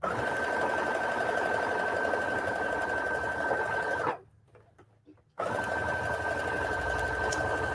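A sewing machine stitches patchwork from scraps and old blue jeans, running in a steady close whir with a high steady tone, stopping for about a second before resuming.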